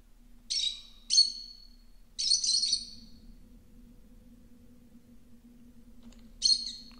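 A small caged bird in a Spanish-language video game gives bright, sharp chirps and short trills in three quick bursts, then one more after a pause, clear over a low steady background hum.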